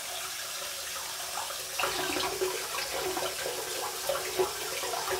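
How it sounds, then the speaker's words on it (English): Hot tap water running into a sink to rinse a razor head, a steady close rush of water that grows louder and splashier as the razor passes through the stream. "after that hot water rinse on the razor head"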